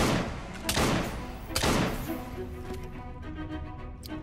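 Gunfire in the game Assassin's Creed Syndicate: a few sharp, loud shots at a loose, irregular pace, each with a short rumbling tail, over steady game ambience.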